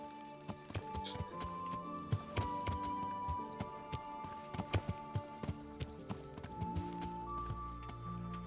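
A horse's hooves clip-clop at a steady walk in the video game Kingdom Come: Deliverance, soft and rhythmic against quiet background music tones.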